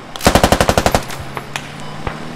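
An M240G machine gun fires in a video game, giving one rapid burst of about ten loud, evenly spaced shots, followed by quieter scattered distant pops.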